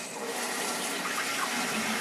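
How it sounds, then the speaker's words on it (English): A toilet cistern refills after the water supply is turned back on, producing a steady rushing hiss of running water at close range, with no talking. "Now we should be able to turn the water back on."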